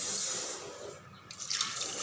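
Water pours over washed toor dal in a pressure cooker, a close, steady splashing rush with a brief dip in the middle before the flow picks up again, with no talking.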